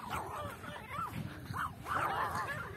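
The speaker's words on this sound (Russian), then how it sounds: "Какие смешные собачки." Small dogs on a beach yipping and whimpering in short, high bursts, fairly close, with faint background noise and no clear talk.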